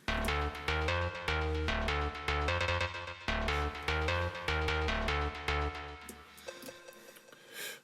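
Unprocessed synth bass from the Analog Dreams preset Garage plays a punchy, rhythmic pattern of repeated notes, loud and alone, ending with a fading tail.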